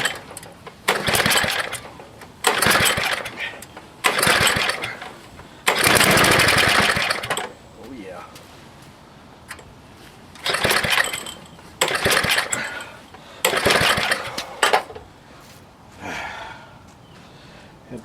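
A 1960s Ariens snowblower engine gives repeated loud, rough bursts of a second or two, separated by short quiet gaps with heavy breathing close by.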